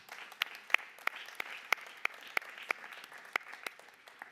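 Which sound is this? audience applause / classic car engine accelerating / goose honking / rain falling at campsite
audience applause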